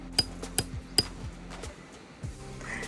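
A new hammer strikes at a campsite, likely on tent stakes for a Coleman Japan Tough Screen 2 Room House in Sagamihara. Four sharp, ringing metallic hits land in an uneven rhythm at close range over quiet background.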